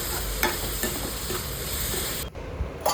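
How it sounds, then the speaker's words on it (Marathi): Egg masala mixture stirred in a hot pan gives a steady, close sizzle with scraping strokes of the spoon, and the sound dips briefly near the end. No one speaks. "आता चांगलं असं परतवून घेऊया आपण एकत्र करून घेऊया आपलं जे पण मिश्रण आहे"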